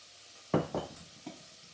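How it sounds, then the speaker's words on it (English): Paella ingredients with ground green cardamom sizzle in a pan on a lowered heat, with three short scraping stirs close by over a faint, steady frying hiss and no talk. "Give everything a stir, turning the heat down"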